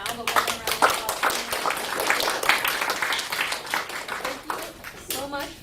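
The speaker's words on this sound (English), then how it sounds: "You don't see Eyal now, but one more round of applause." An audience applauds young performers at a violin masterclass, lively clapping from many hands rising and falling across the stretch, with voices talking over the clapping at the start and end.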